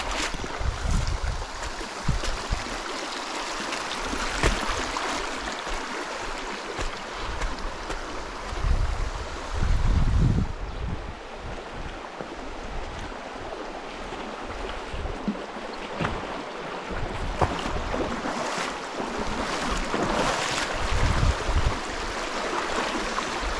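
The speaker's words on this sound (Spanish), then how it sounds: "ahí es una especie de planta hidroeléctrica" Water rushes steadily and loudly over rocks in a river beside a hydroelectric plant. The broadband roar fills the whole stretch, with occasional splashes and surges and no talking.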